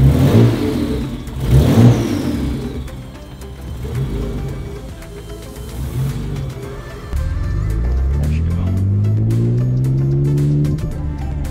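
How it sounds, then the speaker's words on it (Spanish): A 1998 Mitsubishi 3000GT VR4 fitted with a downpipe exhaust cranks and catches, then its engine revs up and settles, and later climbs again in a long rising rev, loud and close with no talk. "Vamos a prender el carro y a ver qué tal suena."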